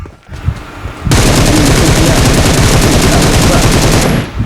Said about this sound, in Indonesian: Oke, tembak terus.